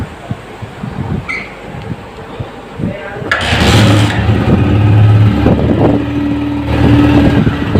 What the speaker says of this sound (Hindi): अब बाइक को दोस्तों स्टार्ट करेंगे, स्टार्ट करके इसका साउंड भी सुनेंगे